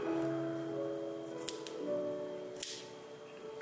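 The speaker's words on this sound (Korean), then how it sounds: "자연스럽게 꺾일 수 있게 가위집을 줍니다." Fabric scissors snipping notches into the linen seam allowance of a sewn baby hanbok skirt, three quick close cuts over soft room hum, with no voices.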